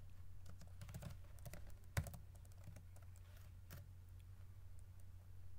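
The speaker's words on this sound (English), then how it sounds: "we can go ahead and type in this command" Keys tapped on a computer keyboard while a command is typed, light clicks in uneven clusters with one firmer keystroke, faint and close over a steady low hum.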